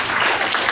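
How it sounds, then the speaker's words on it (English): A brief burst of audience applause during a real estate acquisitions presentation, close and fairly loud, lasting under a second with no talk. "can I have a round of applause for being honest?"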